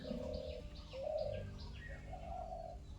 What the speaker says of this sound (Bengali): এই বসন্তের কোকিল ডাকছে